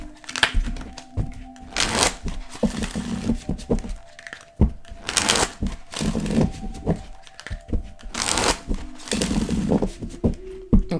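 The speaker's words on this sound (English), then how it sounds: "So we're going to go ahead and shuffle these here." A deck of tarot cards is shuffled by hand at close range, with dense riffling and slapping bursts recurring in waves, loud and busy throughout with no talking.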